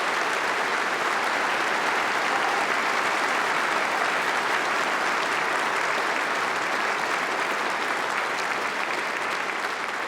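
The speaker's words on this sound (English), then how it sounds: "Ladies and gentlemen, may we have a round of applause for those." Dense, sustained applause from a large outdoor crowd at an Anzac Day service in Perth, honouring a choir and band; steady, loud clapping that holds evenly for the whole stretch.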